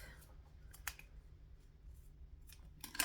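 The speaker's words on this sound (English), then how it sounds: "grab some scissors and chop it off" Scissors snip through black zipper tape during a sewing job, several short crisp cuts spaced apart, the loudest near the end, close and quiet with no talking.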